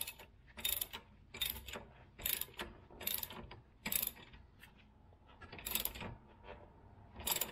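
A socket ratchet cranks down on a nut during power steering rack replacement on a 2000 Acura 3.2 TL, giving about eight evenly spaced bursts of sharp, close pawl clicking.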